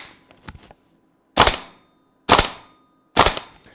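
Three loud, sharp metallic racks of a PTS Syndicate Maten 308 gas blowback airsoft rifle's charging handle, evenly spaced and close, after a few quieter handling clicks.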